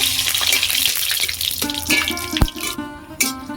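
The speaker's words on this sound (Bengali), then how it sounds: "তেল গরম হয়ে গেছে শুকনো লঙ্কাগুলো প্রথমে ভেজে নেব" Loud, steady sizzling of dried red chillies frying in hot mustard oil, with a few sharp metallic scrapes and clinks of a utensil against the pan.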